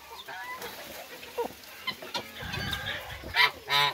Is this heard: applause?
no